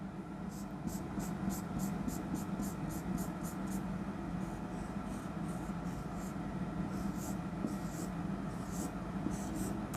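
Quick hand drawing of a T2 phage diagram during a biology lesson, a soft rhythmic scratching of strokes repeating rapidly, faint and close over a steady room hum, with no clear talk.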